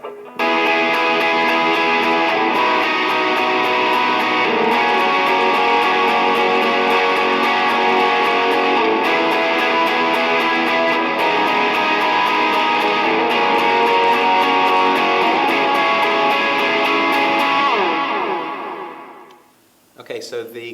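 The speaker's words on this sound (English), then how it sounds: "I'm using the same Crunchbox distortion and the same Boss digital delays as before" Electric guitar through a Crunchbox distortion pedal and two Boss digital delays rings out continuously with a crunchy, saturated tone and echoing delay trails, playing steadily for about eighteen seconds before fading to near silence.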